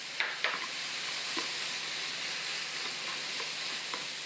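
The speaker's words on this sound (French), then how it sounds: "je mélange bien les épices avec la viande hachée et l'oignon" Minced meat with spices and onion stirred in a frying pan, a steady broadband sizzle with a few soft scrapes of the spoon, close and continuous throughout.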